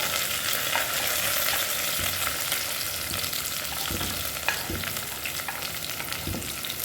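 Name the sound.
onion and curry leaves frying in oil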